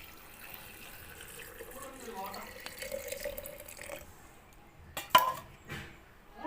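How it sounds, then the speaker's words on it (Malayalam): Water pours and trickles into a vessel of small-onion pickle with beetroot at close range, with a few sharp clinks near the end, under quiet talking. "ഇനി നമ്മൾ തണുക്കാനായിട്ട് വെച്ച വെള്ളം ഇതിലോട്ട് ഒഴിച്ചു കൊടുക്കാം"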